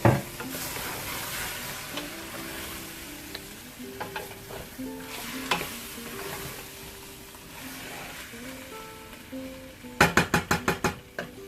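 Egg and potato sabji cooking under a lid on low-medium heat gives a low steady sizzle, with occasional knocks and a quick burst of sharp rattling taps near the end.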